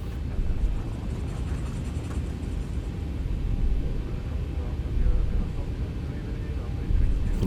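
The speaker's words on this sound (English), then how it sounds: "Rolling takeoff." Boeing 737-800 jet engines spool up for a rolling takeoff in the X-Plane 12 flight simulator, a steady, loud low roar with broadband rumble that swells slightly in bursts as thrust builds.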